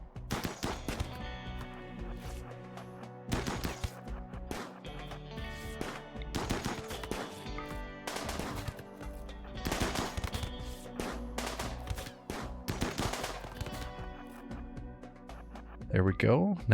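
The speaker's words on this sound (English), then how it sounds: "They can draw the gunfire." Repeated bursts of gunfire crackle in rapid volleys in the video game RimWorld, with a dense, game-like mix of shots and effects.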